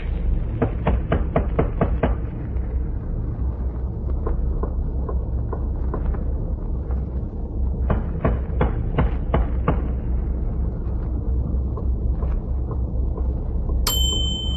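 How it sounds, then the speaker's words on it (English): A series of sharp metallic taps strikes a bunker hatch in a radio drama effect, with quick clusters of knocks over a low rumbling background and a bright ding near the end. "I'll tap on the hatch."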